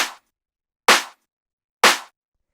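Clap layered with a snare in a deep tech house drum sample, three crisp sharp hits evenly spaced about a second apart, each a bright short burst with quick decay into silence.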